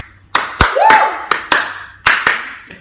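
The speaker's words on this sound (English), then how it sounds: "slow clap." Slow deliberate clapping from one or two people nearby, about seven sharp claps spaced unevenly, loud and crisp in a quiet room, with a brief voice between claps.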